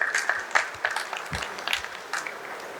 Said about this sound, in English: A round of applause for Anjali sir.